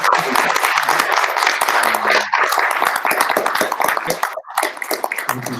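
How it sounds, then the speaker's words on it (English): An audience at a cybersecurity conference applauds, sustained crowd clapping for several seconds, with brief speech mixed in near the start and after a short lull. "can we have a round of applause for our"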